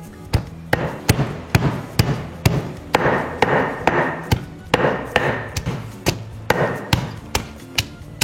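Shallots, garlic and kencur pounded into spice paste in a mortar, a steady run of sharp thudding strikes roughly every half second with grinding in between, close and loud, no speech.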